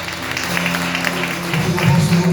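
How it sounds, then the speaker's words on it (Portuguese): A congregation applauding during a Portuguese-language church service, a dense, steady wash of clapping that swells slightly toward the end, with some voices mixed in. "Aplauda o Senhor."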